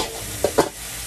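Chicken wings fry on a Blackstone griddle, giving a steady close sizzle with two quick scraping stirs as the pieces are moved around.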